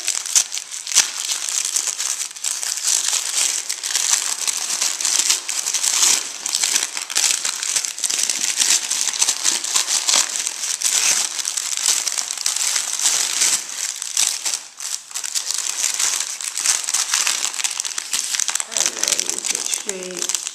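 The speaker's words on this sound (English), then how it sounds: "And wrapped in tissue and sealed with a mattress sticker." Tissue paper wrapped around a parcel's contents and sealed with a sticker is pulled open, giving a close, continuous crinkling and rustling that runs steadily for about twenty seconds.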